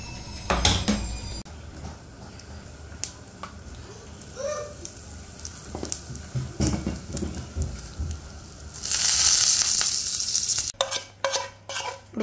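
Cumin and mustard seeds hit hot ghee and sizzle in bursts under scattered stirring clinks, swelling into a loud, close crackle near the end and then breaking into sharper pops and scrapes.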